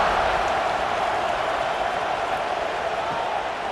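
A large crowd at a college football stadium, Kansas State against Utah, roars steadily at kickoff, a dense continuous wash of cheering that holds loud throughout.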